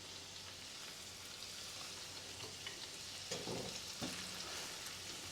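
Butter melts in a pan with a soft, steady sizzle and faint crackling, broken by a couple of brief stirring or scraping sounds near the end.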